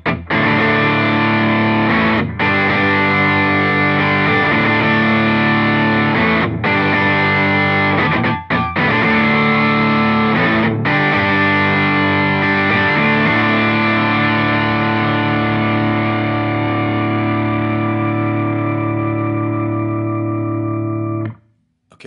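An electric guitar strums big distorted power chords through a multiband distortion pedal, ringing out with a bright, punchy sheen, a few chord changes and then one long sustained chord fading away.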